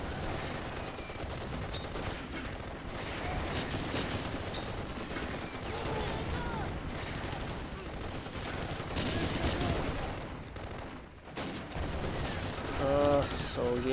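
Machine gun fire in the Close Combat wartime strategy game, steady bursts of gunfire crackling through dense battle noise at low level, with a voice speaking now and then.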